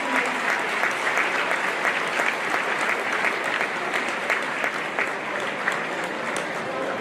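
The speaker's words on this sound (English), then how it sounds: "Please give a round of applause to the" Audience applauding at a gala event, dense steady clapping from a large crowd that continues throughout, moderately loud with a faint murmur of voices beneath.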